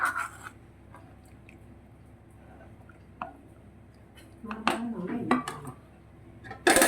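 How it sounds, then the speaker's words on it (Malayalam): Pot of dry prawn and drumstick theeyal covered with its lid while cooking, with a few sharp metallic clinks and rattles of the lid near the end over a quiet kitchen background. "അടച്ചു വെച്ച് വേവിക്കാം."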